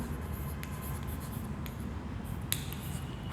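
Chemical symbols being written by hand, a soft continuous scratch of a pen or pencil on paper with a few sharper strokes, close and quiet over a low background hum.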